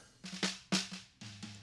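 Snappy snare drum hits with a buzzy wire rattle, heard from beneath the drum: several quick strokes in a loose rhythm, close and fairly quiet.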